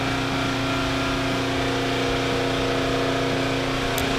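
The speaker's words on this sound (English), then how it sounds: "sorry for the exhaust fan." An exhaust fan runs in a paint booth during car painting, a loud, steady mechanical hum with a constant tone and no change throughout.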